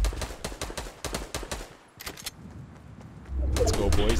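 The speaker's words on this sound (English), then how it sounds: "I just shot him with the sniper." Sniper fire in Fortnite: a string of sharp, loud gunshots in rapid succession, then a short pause and a couple more cracks, with noisy game action swelling at the end.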